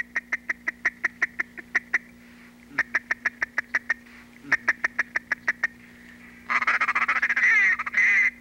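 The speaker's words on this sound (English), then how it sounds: "Now we have 3 wood ducks coming in from the north, setting their wings" Wood ducks in a marsh give repeated quick series of calls in regular bursts, fairly close, followed by a denser rough flurry of calling near the end over steady low background hum.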